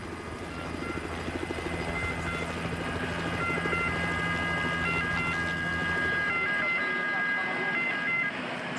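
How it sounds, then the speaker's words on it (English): Ambulance siren wailing on the course of the Giro del Piemonte cycling race, a faint stepping tone under a loud, steady helicopter drone, with a commentator talking over it. "it's an ambulance, isn't it, on the course."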